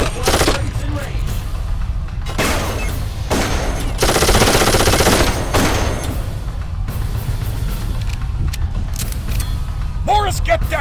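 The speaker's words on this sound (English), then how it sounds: "Those auto turrets will tear you to pieces!" Auto turret gunfire in the shooter Darkest of Days, sustained bursts of rapid automatic fire with one long, dense volley in the middle, mixed with loud battle noise and voices talking over it.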